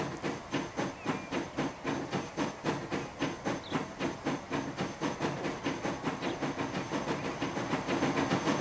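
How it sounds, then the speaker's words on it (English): A train pulls away in the rail-building game Transport Fever, a steady rhythmic chuffing and clatter of wheels repeating evenly, with hissing and a slight build in loudness toward the end, no voices over it. "the train will start to come out now"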